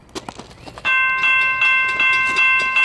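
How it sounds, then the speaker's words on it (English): An Amtrak passenger train hauled by engine 100 approaches with a loud, sustained chord of its horn after a second of soft rumble, the blast pulsing slightly as it continues. "that's a train right there coming"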